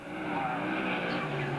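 Race cars at a speedway coming off the final turn and down the line, a brief, fairly faint burst of engine roar with a tire-scrub edge, sweeping past together.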